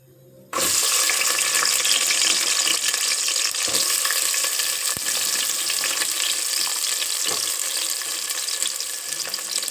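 Onions hit hot oil with a sudden loud burst of sizzling for a mutton and yam curry, then a dense, steady frying hiss continues with occasional faint clinks.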